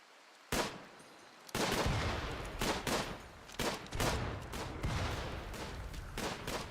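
Rapid bursts of gunfire in the video game Rimworld, repeated heavy volleys and fusillades roaring one after another at high volume, with no talking.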